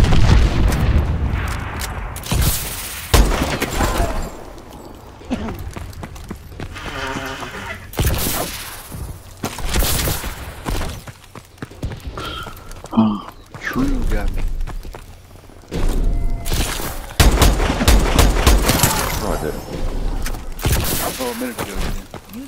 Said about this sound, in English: Friendly missile strikes incoming.